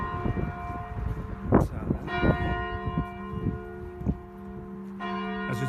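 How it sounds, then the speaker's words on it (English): A church clock bell chimes in a church tower, several ringing strikes spaced out over a few seconds with lingering metallic hum, heard up close against low background noise. "As is the church clock chiming"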